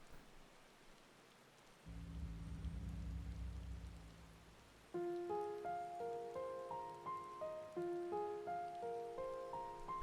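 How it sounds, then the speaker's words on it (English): Steady rain hiss with a low rumble, then a plucked, chiming melody enters over the continuing rainfall, like a game soundtrack. "It's raining now."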